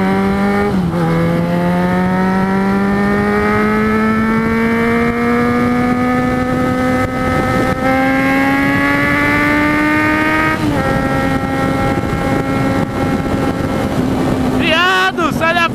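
A Yamaha XJ6 motorcycle engine revs up and accelerates in a long rising whine, dips briefly as it shifts, then climbs again, loud and close, with people shouting at the end.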